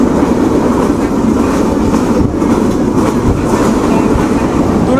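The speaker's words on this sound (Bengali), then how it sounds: "আর আমাদের ট্রেন আবার প্রচণ্ড স্পিডের সাথে যাত্রা শুরু করে দিল ঢাকার উদ্দেশ্যে।" The Madhumati Express, an LHB-coach train on broad gauge, runs at speed with a loud, continuous rumble and rattling wheel clatter heard from on board, steady throughout.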